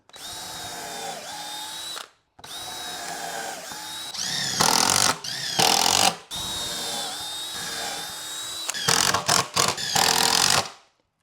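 Cordless power drill driving screws into a wooden garage storage rack built for 27-gallon totes: loud, close whirring runs rising in pitch as each screw seats, broken by brief stops and sharp bursts of grinding as screws bite.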